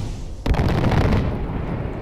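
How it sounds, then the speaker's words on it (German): Gunfire in the video game Far Cry 4: a sudden loud burst of rapid shots kicks in and rattles on for over a second before trailing off into lingering echo and background noise. "Brauchst du nicht mehr rumschießen."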